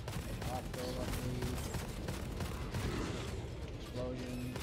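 Rapid bursts of video game gunfire crackle throughout, layered with explosions and game effects, while a player talks over the action.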